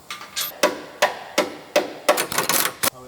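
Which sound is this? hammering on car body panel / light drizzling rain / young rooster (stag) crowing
hammering on car body panel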